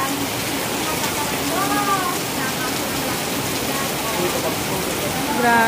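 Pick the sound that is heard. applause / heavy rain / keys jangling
heavy rain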